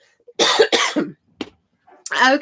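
A short burst of harsh, raspy throat sounds, a few quick rough clears separated by brief pauses, close and fairly loud.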